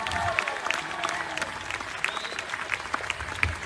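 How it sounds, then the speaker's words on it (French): A crowd at a political meeting in French Guiana claps steadily, dense applause with a few sharper claps, while voices and faint cheers rise underneath. "Un grand applaudissement pour Jean-Victor Castor et merci à toutes et tous."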